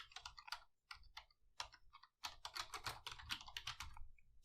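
Rapid bursts of computer keyboard typing as a Cisco IOS command is entered, close and clear, with uneven clusters of key clicks and a short pause midway.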